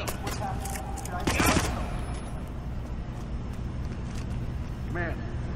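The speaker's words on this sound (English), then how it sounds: "somebody's blasting a weapon. Oh, they're two different guns" Gunfire from two different guns in the Hitman video game, with a sharp cluster of shots standing out briefly over a busy, noisy background, fairly close but brief.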